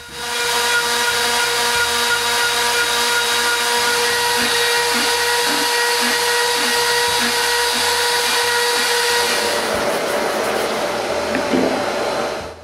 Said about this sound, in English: I make threads on the end of the central post.